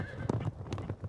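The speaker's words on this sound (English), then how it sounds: "his horse will pull us through different obstacles" Hooves of a horse clip-clopping on a ranch in a short burst of uneven steps, fairly close, with a faint whinny and no talk.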